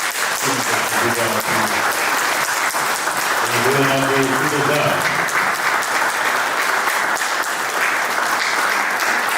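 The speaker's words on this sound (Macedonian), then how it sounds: "И поздравивте секој од нив со еден аплауз поединечно." An indoor audience at a poetry book promotion at the Anton Panov cultural centre in Strumica claps steadily and loudly for the poets throughout, while a voice talks over the applause partway through.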